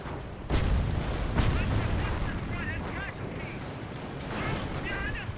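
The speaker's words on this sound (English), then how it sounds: "Looks like there's also artillery there." Artillery and gunfire in Company of Heroes rumble continuously, with heavy low booms and crackling shots layered together, while a voice talks over the battle.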